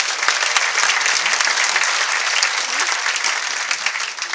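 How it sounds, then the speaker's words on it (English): A cruise ship show audience applauds the drummer, steady, full clapping from a sizeable crowd that holds evenly and then eases slightly at the end, with faint voices beneath. "give him a round of applause on the drum kit"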